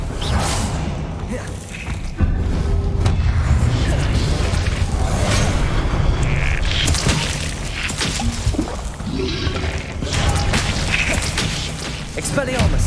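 Confringo fire-blast spells detonate in Hogwarts Legacy combat, with repeated cracking whip-like blasts, thuds and whooshes across a loud, busy fight lasting several seconds.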